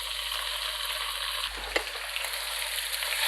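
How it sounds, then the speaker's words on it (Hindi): Chicken and finely chopped garlic sizzle steadily in hot oil for a Spicy Chicken Handi, a dense, even hiss with a brief clatter partway through as the pan is stirred, no voices. "इसको हल्का सा फ्राई करेंगे और इसमें मैं चिकन डाल दूँगी"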